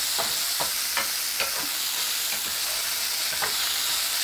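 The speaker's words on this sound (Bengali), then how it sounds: "পেঁয়াজ কুচিটাও তেলের সঙ্গে ভালো করে নেড়ে নেব" Chopped onions frying in hot oil for paneer tikka masala, stirred with regular scraping strokes about twice a second over a constant close sizzle, no voices.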